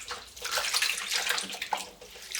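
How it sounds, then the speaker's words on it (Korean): Water poured over water parsley in a bowl, a close, continuous splashing gush of running water with a bright bubbling texture for a couple of seconds. "미나리가 잠기도록 물을 부어서 식초 2스푼 넣고"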